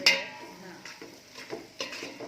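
Cabbage being sautéed in a pan for masala rice along with onion, potato, green chilli and ginger-garlic paste, giving soft scraping stirs and light clinks of a spatula against the pan, with a faint sizzle underneath.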